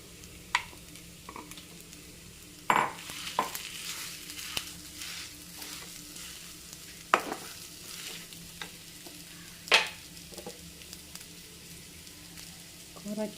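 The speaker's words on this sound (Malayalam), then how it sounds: "ഇനി നമുക്കിതിലേക്ക് ഉരുളക്കിഴങ്ങ് സ്മാഷ് ചെയ്ത് വെച്ചിരുന്നത് ചേർത്ത് കൊടുക്കാം." Mashed potato being stirred and mixed with salt in a pan for aloo paratha, giving soft scraping and stirring noises with a few sharper clinks of the utensil against the pan, close and moderately quiet, with no talking.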